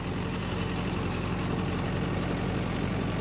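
A diesel vehicle engine labours under a heavy load of soil, a loud, steady, dense low rumble with a faint thudding pulse that fills the whole clip without pause.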